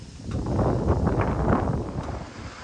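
Wind blows outdoors and buffets the microphone with a heavy, continuous roaring rumble that swells and eases in gusts.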